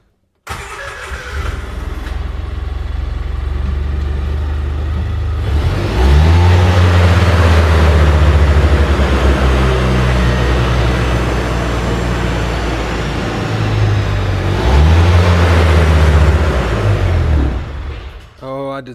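A UTV engine runs loud and close through a test ride, surging and revving, then sagging and stumbling as it nearly dies. It picks up again and falters a second time, ending with a short drop and a brief catch.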